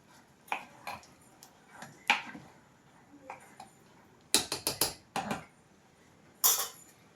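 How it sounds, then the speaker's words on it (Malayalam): Sporadic metallic scrapes and clinks of a spoon against a cooking pot, quiet between irregular bursts, with a cluster of sharper knocks midway. "നമുക്കൊന്ന് ഇളക്കി കൊടുക്കാം"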